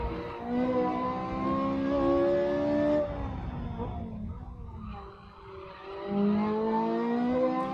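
Ferrari F355 engine in Assetto Corsa at Cadwell Park, held at full throttle in second gear, a loud rising harmonic drone that dips briefly mid-clip and climbs again.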